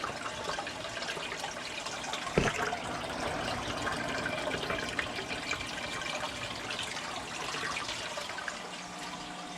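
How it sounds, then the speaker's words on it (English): Marineland Penguin 350 aquarium filter pouring water into a fish tank, a steady, fairly quiet rushing and splashing flow with bubbling aeration and one brief knock partway through. "And look at that water flow compared to what it was then."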